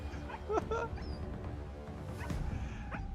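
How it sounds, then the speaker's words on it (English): A dog in the samurai-era game Assassin's Creed Shadows gives a few short, high whimpers and yips early on, then softer whines over a low game background and faint voices. "Now, can I please pet the dog and take him home with me?"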